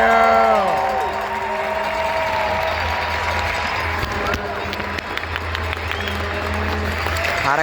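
An arena crowd at a Hershey Bears hockey game applauds and cheers for a number 17 jersey retirement, loud sustained clapping and shouts under organ or horn tones and a fading announcer voice.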